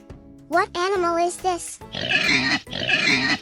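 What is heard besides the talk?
pig oinking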